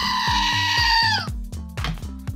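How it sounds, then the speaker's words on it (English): A screaming goat lets out a loud, close, sustained bleat, then a short, rougher cry follows. "So a screaming goat salute to 2022."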